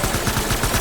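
Rapid automatic gunfire from the video game Death Stranding, a dense, loud stream of shots filling the moment alone with no voices over it.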